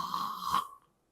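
A voice imitates snoring, a single rough, vibrating throaty rasp lasting under a second, close and fairly quiet before falling silent.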